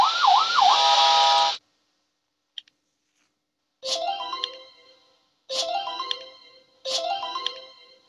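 A police car siren in a children's car-building video game: one wailing electronic siren sweep, followed after a pause by three repeated bright chime-like synthetic bursts, clear and close with no talking.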